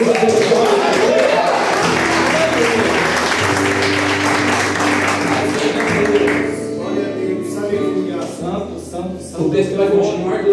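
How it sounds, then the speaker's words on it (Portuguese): A church congregation claps and cheers over steady music, with a preacher speaking above the applause, which thins out partway through. "Se você acredita, aplauda o nome do Senhor Jesus."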